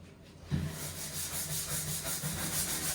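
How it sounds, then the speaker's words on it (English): A scrubbing brush worked over wet room floor tiles and into the grout joints, a steady rhythmic rasping scrub of repeated strokes, close and fairly loud, with no talking. "Really get your brush into that, all the joints."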